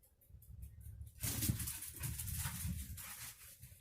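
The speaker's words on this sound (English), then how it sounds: "My dogs are playing if you're wondering what's going on." Dogs play indoors, with soft whimpers and scuffling at first, then a burst of louder growling, yips and thumping that keeps going close by.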